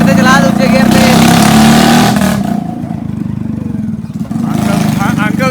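A Royal Enfield Bullet motorcycle fitted with a changed silencer is ridden in second gear. Its loud, close engine drone holds steady, then drops in level partway through before swelling again, and voices can be heard alongside.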